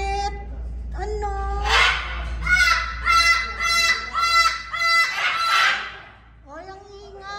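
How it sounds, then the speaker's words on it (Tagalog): Noisy caged birds, yellow, gray and red ones, call in a rapid series of honking, squawking notes close by, clustered in bursts with short pauses and a soft background hum. "Ay, ang ingay. Grabe. Yellow birds."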